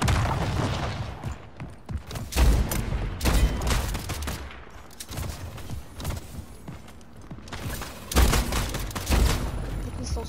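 Video game gunfire in Splitgate crackles in dense, loud bursts of rapid shots and booms, with short pauses between volleys and a voice talking at moments.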